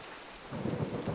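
Steady rain and a low rumble of thunder in a video game, faint at first, then swelling into a louder, fuller storm about halfway through, with no talking.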